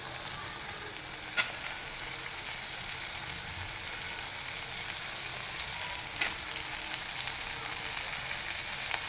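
Diced onion frying in a pan with corn, a constant bright sizzle running close and even throughout, with a couple of faint clicks.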